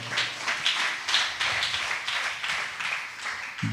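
A church congregation claps together in a quick, steady rhythm, a moderately loud sequence of sharp claps spread across a few seconds.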